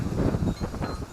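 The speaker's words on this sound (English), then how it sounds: "it's getting a little bit too windy" Wind gusts buffet the microphone outdoors at an allotment, producing rumbling, uneven low blasts that rise and fall over about a second.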